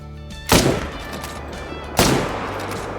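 Two loud, sharp hunting-rifle shots about a second and a half apart in the Call of the Wild hunting game, each with a short decaying echo, over quiet outdoor ambience and no speech.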